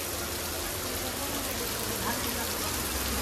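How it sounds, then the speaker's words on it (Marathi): A state transport bus drives past on a wet village road in heavy Konkan rain, its mid-pitched engine rumble blending with the steady hiss of rainfall and tyre spray. "एसटी बघा एसटी जाते"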